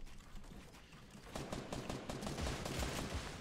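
Video game gunfire in a Doritos ramp rush challenge, a dense rattle of rapid shots that swells louder partway through and keeps firing in quick bursts amid steady background game noise.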